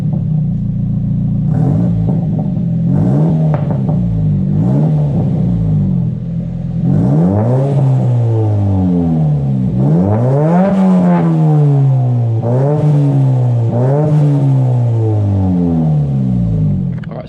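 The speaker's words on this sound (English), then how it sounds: "I'll try and give it a couple revs here, so I don't piss off my neighbors" A Nissan S15 with a new exhaust idles and then takes several short revs, each a rising and falling bark over a rough idle rumble, heard outside and fairly loud.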